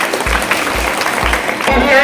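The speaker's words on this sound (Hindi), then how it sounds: "विद्यालय की तरफ से जोरदार ताली बजाइए" Applause from an audience honouring children at a school prize-giving at Adarsh Madhya Vidyalaya in Kheriya, Korha, Katihar. The clapping is brief, dense and steady, with voices mixed in.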